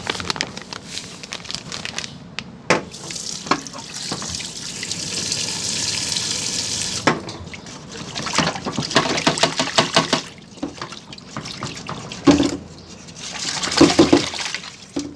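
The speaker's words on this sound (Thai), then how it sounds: "เราก็ไปล้างปลา วิธีล้างปลาก็เกลือครับ" Tilapia is washed with salt under running tap water in a sink, with water gushing and splashing in bursts alongside handling noises and crinkling, pausing briefly in between.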